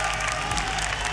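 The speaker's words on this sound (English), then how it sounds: "You see the crowd cheering." A live crowd at a Rainbow Six esports finals in Atlantic City cheers and applauds loudly, a dense, sustained roar filling the arena.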